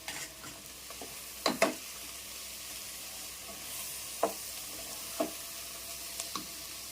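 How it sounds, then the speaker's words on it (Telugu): Boiled potatoes being mashed in a frying pan for a potato fry, heard as a faint pan sizzle with a few scattered scraping knocks of a utensil against the pan, and no talking. "ఇప్పుడు మనము ఉడకబెట్టి పెట్టుకున్న ఉల్లగడ్డలు వేసేద్దాం. పొటాటోస్ దీన్ని బాగా మ్యాష్ చేసేద్దాం."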